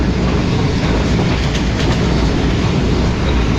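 A Shalimar Express train runs along the main line near Hyderabad and Mirpur Khas, beside a national highway. A loud, steady roar of rolling rail cars fills the whole stretch with faint wheel clatter and no voices.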